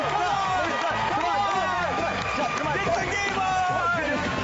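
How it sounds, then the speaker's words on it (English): A studio audience on a television health show cheers and shouts encouragement for a woman doing Kangoo Jumps, a dense, steady wall of crowd noise with overlapping voices and loud music running throughout. "While we go to break, I want everyone to cheer Lisa on."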